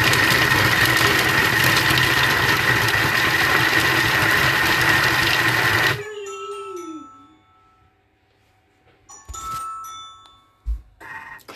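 A kitchen food processor runs at speed 4 with a loud, steady whirring hum for about six seconds, then cuts off and spins down, followed by quieter clicks and handling noises.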